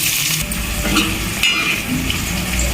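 Tomato, green chilies and ginger-garlic paste sizzle in a hot pan for an aloo kurma while a spoon stirs and scrapes them, a continuous crackling fry with occasional soft utensil clinks and no voices.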